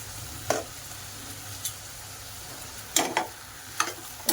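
Curry fries in a pan over a medium flame with a soft, steady sizzle under several sharp spatula scrapes and clinks, a few scattered and then a quick cluster toward the end; no voices.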